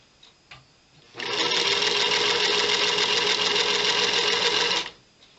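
Sewing machine chain piecing quilt blocks, a single steady burst of rapid stitching lasting about four seconds, close and loud, starting and stopping abruptly with quiet handling before and after.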